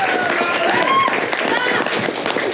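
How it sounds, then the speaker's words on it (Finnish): Audience applause at a band feedback session during the Turku Bandstand 2026 event in Finland: a dense, steady wash of clapping with crowd voices and cheers mixed in, loud and sustained throughout. "Aplodit."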